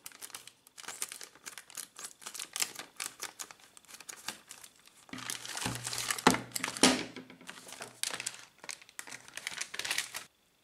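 Plastic packaging of a UGREEN charger crinkles as it is opened, a long stretch of close, irregular crackling and rustling that grows louder toward the middle, with no talk.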